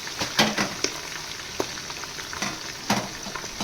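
Onions fry in a pan for biryani, a continuous hiss with sharp stirring clicks and scrapes at intervals, close and moderately loud, with no talking.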